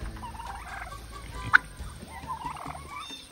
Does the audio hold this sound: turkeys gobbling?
yes